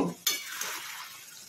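Ash gourd curry with ginger, poppy seed and mustard paste being mixed in a pan, with a sharp utensil scrape at the start, then a steady close scraping and sizzling stir.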